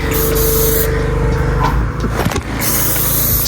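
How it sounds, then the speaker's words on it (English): A water sprayer blasts dirt bike tires during a wash, producing a loud, close, continuous rushing hiss that dips and sputters briefly in the middle before resuming at full force. "And then I spray the tires."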